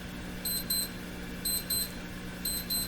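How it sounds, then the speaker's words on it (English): A signal generator on a tube-radio repair bench emits short, high electronic beeps in quick pairs, repeating about once a second over a steady low hum. "The beeping will stop in a moment."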